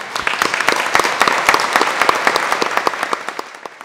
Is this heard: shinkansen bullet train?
no